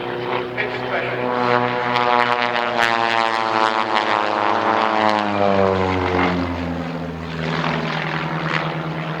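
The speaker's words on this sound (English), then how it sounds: "you'll notice that characteristic noise, that's the propeller tips going supersonic" Propeller-driven aircraft pulling smoke in synchronized aerobatic loops at an evening air display, the engine drone rising into a rasping, buzzing note as the propeller tips go supersonic, loud and continuous with a commentator talking over it.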